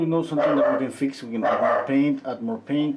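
A dog barks several times during a live oil painting session, short yipping barks mixed in with a person talking over them.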